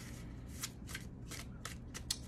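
A tarot card deck is shuffled close up, with about seven rapid riffling bursts at a steady rhythm over a low background hum.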